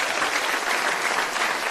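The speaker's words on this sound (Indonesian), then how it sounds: "Tepuk tangannya." Steady, dense applause from a studio audience at a televised Indonesian talent competition, filling the whole stretch evenly at close range with no pauses.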